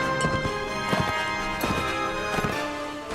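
Horse hooves galloping in the video game Mount & Blade: Warband Viking Conquest, a steady clip-clop rhythm of repeated thuds over a dense bed of game music and ambience.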